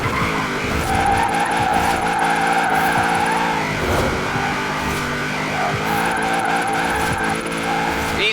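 A car in Forza Horizon 4 drifts on a racing game course, its tires squealing in a loud, sustained screech over a steady engine drone. The squeal dips briefly midway and then resumes at full strength.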